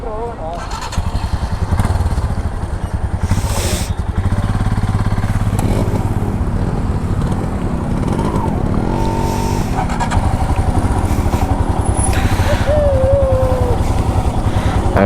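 A Royal Enfield Himalayan BS6 motorcycle engine runs steadily and loudly at a low throb while the bike sets off on a cold ride. Its drone holds under brief wind and handling noises, with some speech over it.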